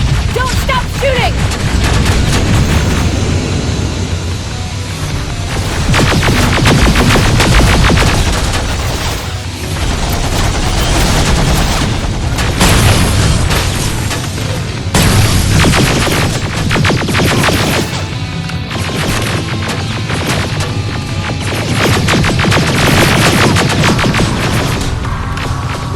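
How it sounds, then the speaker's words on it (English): Heavy, continuous gunfire with rifle bursts and booms from the video game Terminator Resistance, loud and dense throughout, with shouted voices mixed into the battle. "Don't stop shooting!"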